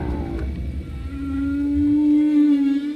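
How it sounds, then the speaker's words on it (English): A male humpback whale sings underwater in a breeding area, a loud, sustained moaning tone that rises and swells over low rumbling water noise, with no voices present. "The songs are so loud, they can be felt through the boat's hull."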